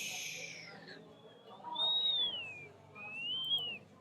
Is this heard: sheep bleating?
no